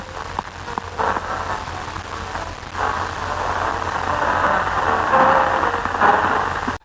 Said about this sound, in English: a minute-long recording exists of Johannes Brahms playing the piano